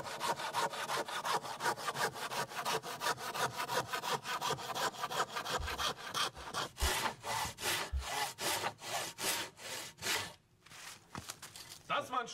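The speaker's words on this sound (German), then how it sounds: "Die Säge ist nicht schlecht, sollten wir vielleicht jetzt immer verwenden." A handsaw cuts through wood for a pit house build with fast, even rasping strokes that slow into longer, louder pulls near the end, close up with a few knocks.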